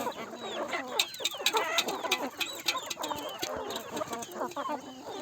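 Free-range desi chickens cluck and chatter busily on a farm, many birds calling over one another in a dense, near and continuous stream, with occasional louder squawks.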